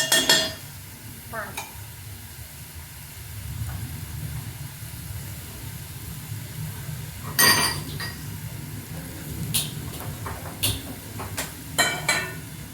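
Vegetables sautéing in ghee with a little oil for veg pulao, a low steady sizzle broken by a spoon scraping and clinking against the pot in several sharp bursts.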